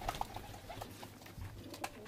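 Pigeons in a loft give a few soft, short coos and light rustles over quiet room noise, with faint knocks scattered through.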